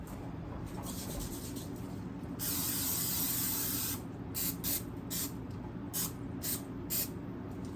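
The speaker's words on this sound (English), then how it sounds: "I should probably go spray the pan as well." Hissing aerosol cooking spray on a baking pan, a long steady blast followed by a series of short, evenly spaced spritzes close by.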